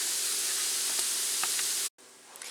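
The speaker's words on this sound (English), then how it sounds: "Then we're going to let the meat and the onions cook, for about 5 minutes," Ground meat and onions sizzling in a pan, a steady hiss with faint crackles that cuts off abruptly near the end.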